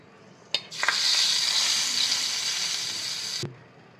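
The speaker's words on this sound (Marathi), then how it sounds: "आता ही फोडणी आपण भातावर घालूया." A sharp clink, then a loud hiss of hot oil tempering with chillies sizzling for about three seconds as it is poured over rice, before it fades with another soft clatter.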